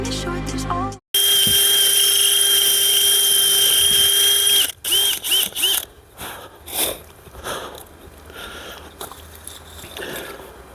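A power drill bores into a garden wall to set an anchor, whining loud and steady for about four seconds before stopping, then a few short bursts and stop-start rattles follow.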